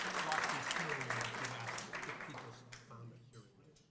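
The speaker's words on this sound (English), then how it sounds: "Give him a round of applause." Dinner guests at an honorary degree event applaud the chef, a dense burst of clapping that starts fairly loud and gradually fades out, with voices murmuring underneath.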